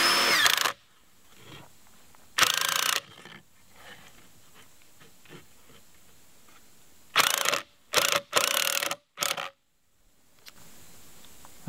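A power driver whirs in several short bursts, sinking screws into wood, with quiet handling clatter in between and no talking.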